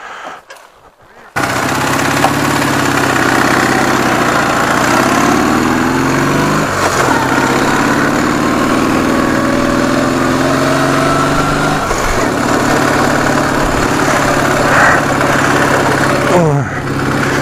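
A Ural motorcycle engine runs loud and close with a steady, chugging drone, starting after a quiet first second and carrying on evenly with slight fluctuations in pitch.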